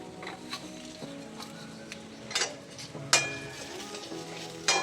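Coriander seeds, cumin and fennel fry lightly in a pan while murungaikai kurma is cooked, giving a soft continuous sizzle with occasional stirring scrapes and a few louder clinks of utensil against the pan.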